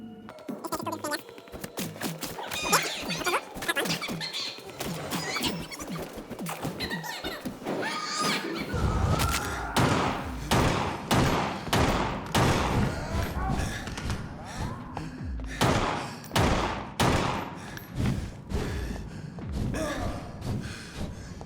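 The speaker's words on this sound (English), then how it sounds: "Okay, the pistol is borderline useless here." Several sharp pistol gunshots fired in the video game Vampyr ring out in a rapid irregular burst amid game music and effects, with someone talking over them.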